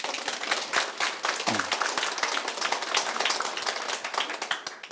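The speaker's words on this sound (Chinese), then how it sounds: "大家给他拍手了" Audience applause at a National Cheng Kung University Hospital gathering about an elderly care ward: a dense, steady round of clapping from many people that carries on for several seconds without a break.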